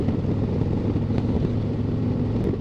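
A 2024 Harley-Davidson Road Glide heard from the rider's seat while leaning through curves, engine droning steadily and loud with a continuous low rumble and wind noise, no distinct shift break standing out.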